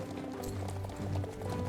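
A Selle Français horse in a show-jumping video game gallops with quick, rhythmic hoofbeats under game sound and background music, moderately loud and continuous.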